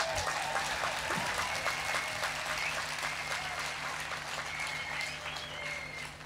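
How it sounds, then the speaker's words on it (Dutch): An audience at an outdoor women's freedom demonstration in Haarlem claps steadily, a dense continuous applause that fades slightly toward the end, with faint voices underneath. "Ja, daar mag je best voor klappen."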